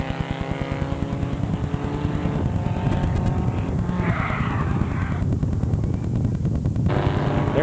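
Race cars roar off into a lap at a 2006 raceday, a dense, loud blend of engine drone and revving that stays steady throughout, with no talk.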